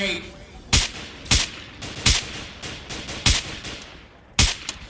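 Gunfire in Garry's Mod: sharp, loud single shots spaced roughly half a second to a second apart, seven cracks in an uneven rhythm over a steady background hiss.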